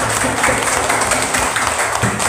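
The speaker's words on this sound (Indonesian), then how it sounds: "Coba tepuk tangan semuanya." Students in an Indonesian classroom clap all together, a loud, dense, close burst of applause filling the short moment with little talk over it.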